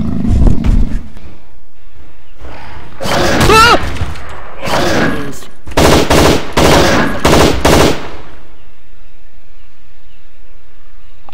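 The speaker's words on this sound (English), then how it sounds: "Three shots." Gunfire in the video game Jurassic Park: Trespasser comes as loud bursts of rapid shots after a short heavy opening blast, separated by brief gaps and then fading to quiet.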